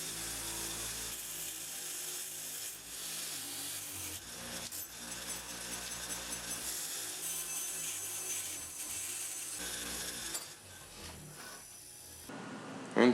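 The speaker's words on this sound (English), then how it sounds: "we forgot to clean the rust from all the bolts for the body mounts" Rust is scrubbed or ground off car body mount bolts during a 1973 Triumph TR6 restoration, a continuous close abrasive rasping and rubbing that keeps up steadily before easing near the end.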